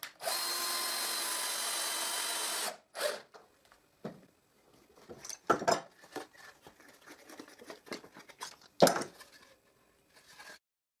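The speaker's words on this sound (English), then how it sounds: "And I drive the screw." A power drill drives a screw into a wooden pallet chair, whirring steadily for a couple of seconds, followed by scattered knocks and handling noises from the workpiece.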